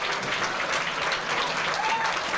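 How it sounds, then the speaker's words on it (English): A town hall audience applauding Parkland students, with dense, steady clapping from a large crowd filling the room continuously and loudly throughout. "people are starting to stand up and applaud them"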